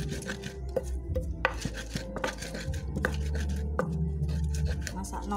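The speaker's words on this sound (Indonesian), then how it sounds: "terus dagingnya lagi diirisi" Meat being sliced with a knife on a board while cooking, a run of soft, irregular cutting taps close by with kitchen clatter in between, no talking.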